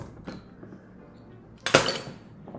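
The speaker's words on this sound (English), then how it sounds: "let's crack this open" A bottle of Blanche wheat beer is opened with a faint creak, then a sharp hiss and pop of the cap coming off, close and alone.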